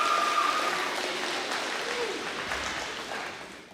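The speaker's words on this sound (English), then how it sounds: "big round of applause for our mathematics winners" Audience applause at a high school Academic Decathlon awards ceremony, greeting the mathematics winners; steady broadband clapping fills the hall at moderate level and fades slightly toward the end.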